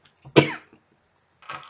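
One sharp, close cough rising out of quiet, followed a moment later by a softer throat-clearing sound.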